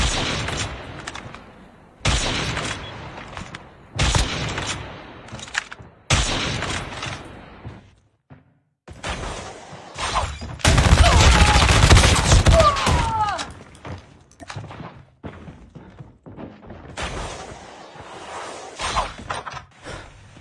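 Sniper rifle shots ring out in a video game, with several loud, sharp bursts spaced a few seconds apart and a longer noisy stretch in the middle.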